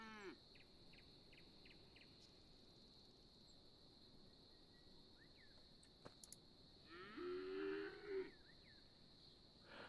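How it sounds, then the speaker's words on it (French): A cow in the Epic Chef video game gives one short low moo near the end, faint against a quiet game soundscape with soft insect chirps and a few small interface blips. "La vache, elle bouffe mes cultures."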